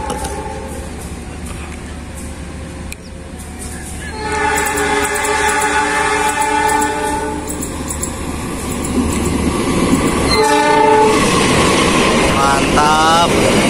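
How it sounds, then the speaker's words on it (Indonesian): Argo Wilis passenger train from Bandung bound for Surabaya Gubeng rolling past with steady loud rumbling and clatter, a bright horn-like tone rising partway through, and a voice speaking over the start. "Ini dia kereta api Argo Wilis dari Bandung tujuan Surabaya Gubeng."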